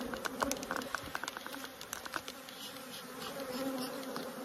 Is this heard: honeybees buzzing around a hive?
yes